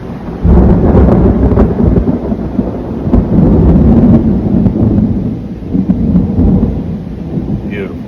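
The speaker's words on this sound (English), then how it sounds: "A lot of thunder up north up here." Loud, close thunderstorm: heavy rolling thunder rumbles almost continuously for several seconds over a steady hiss of rain, with no voices.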